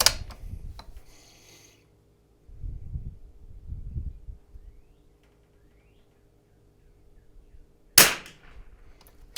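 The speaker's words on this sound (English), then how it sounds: "So we're going to shoot our first 10 on the bullseye target" A Rim-X .22LR rifle fires on an outdoor range at a bullseye target. One sharp, loud crack stands out alone near the end, with a few softer low thumps and handling noises before it.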